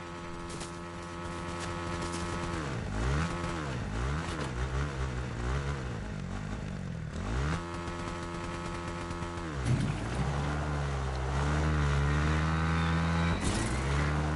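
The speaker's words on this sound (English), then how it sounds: "Oh wait, there is a motorcycle." A motorcycle engine in the Fortnite video game revs and drones continuously, its pitch rising and falling in repeated sweeps, loud and close, with no talking.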